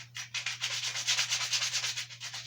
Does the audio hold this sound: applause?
no